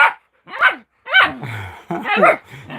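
A Jack Russell puppy yips and barks in short, high bursts close by, with whimpering tones between the barks.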